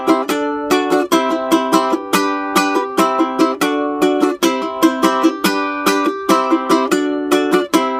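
Ukulele strummed in the La Bamba strum pattern, bright rhythmic chords in a quick repeating down-up pattern, close and loud, played alone with no voice.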